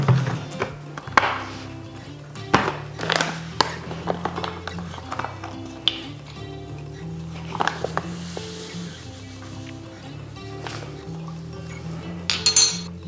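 Pickle brine gets mixed in a glass jar: scattered clinks and taps of glass and utensil with light liquid sloshing, intermittent and fairly close, with a brighter cluster of clinks near the end.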